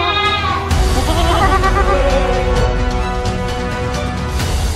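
A goat bleats in a few wavering, nasal calls that ride over a steady bed of background noise, fairly close and loud.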